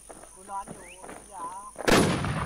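A loud, booming sniper rifle shot from the online survival shooter WarZ cracks out right after a man's quick spoken countdown, followed by a brief decaying rumble.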